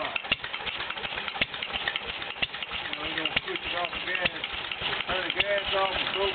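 A Fairbanks-Morse ZC52 engine runs on propane just after start-up, a steady close mechanical chug with people talking over it.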